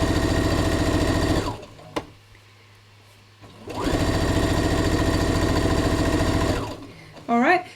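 A sewing machine stitches fabric strips in two long steady runs of rapid mechanical whirring, close and loud, separated by a short pause with a click and low hum; a voice speaks briefly at the end.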